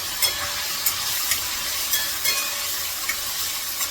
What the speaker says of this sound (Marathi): असं हे सगळं करून मी असं पनीर तळून घेते